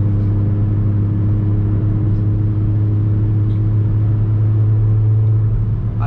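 Volkswagen Jetta with a five-cylinder engine and straight exhaust holds a loud, deep, droning rumble from inside the car, steady and unbroken with slight rises in revs and no talk.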